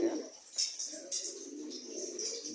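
Caged pigeons coo softly and chirp close by, giving low repeated murmuring calls with a few brighter chirps in a quiet indoor setting.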